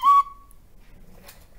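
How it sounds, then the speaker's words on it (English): A short, shrill squeak from a recorder blown too hard, a piercing high note that cuts off quickly, followed by quiet and a faint breathy rustle. "If you hear squeaking, you are blowing too hard."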